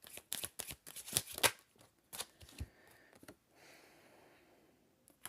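Divination cards being shuffled and drawn, a series of sharp papery riffles and snaps in quick bursts near the start, then quieter rustling and a last soft flick.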